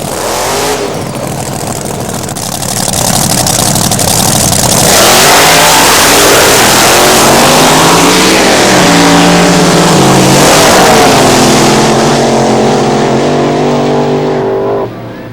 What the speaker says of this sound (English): supercharged, fuel-injected, big block Chevy engine with a powered giant wing on the back